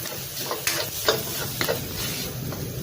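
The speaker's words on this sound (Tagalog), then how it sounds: "Dry lang natin kunti para lang magkaroon ng crunchy at maluto yung onion konti" Onions sizzling and crackling in a frying pan while being dry-fried until crunchy, a steady close hiss with scattered stirring scrapes and no voices.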